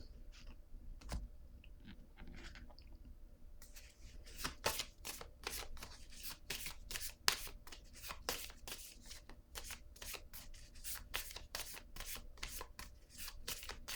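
Playing cards are shuffled and flicked at a table during a tarot-style card reading, producing a quiet, rapid series of sharp riffling clicks and snaps that start sparse and then grow dense and rhythmic, with no talking.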